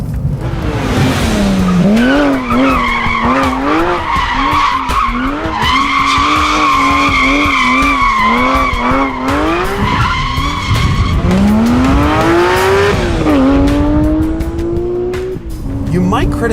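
A Porsche 911R engine revs up and down while driving, with rising and falling pitch sweeps and shifts, loud and close throughout, with a voice speaking over it at times.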